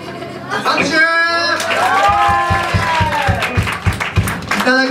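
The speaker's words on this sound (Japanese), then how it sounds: "拍手" An audience applauds after a song at a live fan event, a burst of clapping with whoops under loud, overlapping voices and some melodic sung or shouted tones close by.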